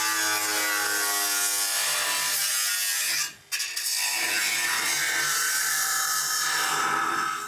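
Fiberglass body panel on a 1968 VW radical custom car being cut back with a saw, a steady close rasping with a brief pause midway, no talk.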